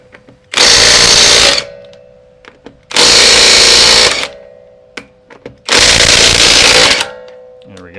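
A power tool zips lug nuts off a Ford Mustang wheel in a garage, three loud buzzing bursts of about a second each with short quiet gaps and small clicks between them.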